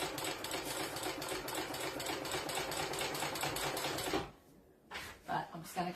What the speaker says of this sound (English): Now I'm just stitching straight across it at this stage